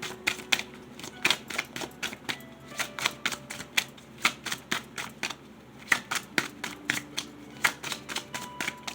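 Tarot cards shuffled and drawn, a long run of crisp, regular card flicks and riffles ticking at a quick rhythm, close and clear with no talk.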